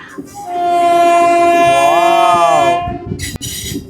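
A train's loud horn blares for about two and a half seconds over rumbling wheels, then fades into clattering rail noise as it enters a road-rail bridge.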